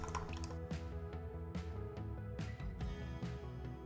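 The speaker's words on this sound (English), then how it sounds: "Next, we're gonna have some white wine vinegar. We're gonna add it right here." White wine vinegar poured into a beef shawarma marinade with olive oil: a close, continuous liquid trickle with repeated wet drips and glugs, over a steady background hum, with no talking.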